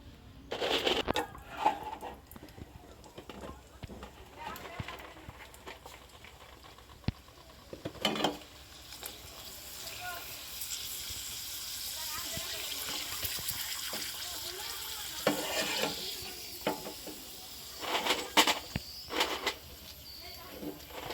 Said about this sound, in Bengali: এখন আমি আপনাদেরকে ভেজে দেখাবো